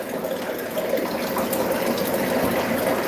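Water running steadily into a container, a continuous close gushing rush without break.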